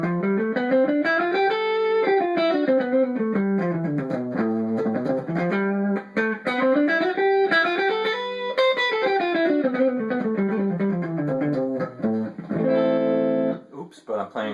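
Distorted electric guitar climbs and descends a scale note by note, loud and sustained, with a brief chordal flourish near the end.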